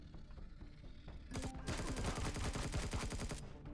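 Rapid bursts of enemy gunfire in the space game Empyrion Galactic Survival, quiet scattered shots at first, then a dense, sustained automatic volley that runs steadily to the end.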